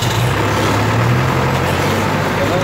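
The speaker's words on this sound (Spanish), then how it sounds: "aquí está fuerte el tráfico." Heavy road traffic on a boulevard in El Salvador, a steady dense roar of cars, trucks and buses with continuous low engine rumble, close and loud throughout.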